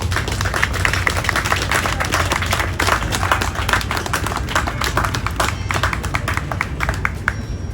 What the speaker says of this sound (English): I would just like to give them a round of applause if you don't mind.